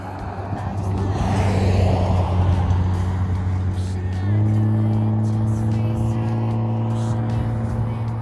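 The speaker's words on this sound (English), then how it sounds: "This is Ellie running away from the car that's coming down the street" A car drives down a residential street, its engine giving a steady, loud, close hum that shifts pitch midway and continues throughout.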